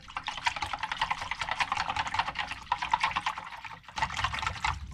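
A cup of water poured into a pot with chicken bouillon for a French onion pork chop and rice dinner, a continuous bubbling splash with a short break near the end, close and fairly loud.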